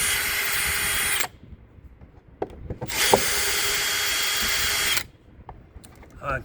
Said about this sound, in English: Let me turn my drill down just in case it wants to torque too tight.